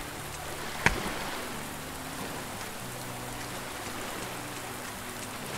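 Steady rain falls in the video game Under a New Sun, a continuous even hiss of droplets with no talk, broken once by a single sharp tick near the start.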